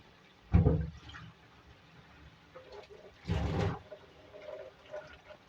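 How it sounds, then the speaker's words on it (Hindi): Half a cup of water poured into a cooking pan of frying tomatoes and chicken masala, two short splashing, sizzling bursts close by with quieter kitchen clatter between them. "अब थोड़ा सा पानी हाफ कप करीब इसकी भुनाई करेंगे अच्छी तरीके से"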